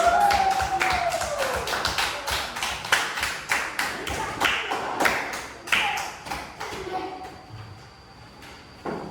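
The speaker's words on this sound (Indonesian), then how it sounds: "Beri aplaus untuk kelompok" Classroom of fourth-grade students clapping for a student group, a fast irregular run of hand claps lasting most of the time, fairly close, tapering near the end with a faint tone underneath.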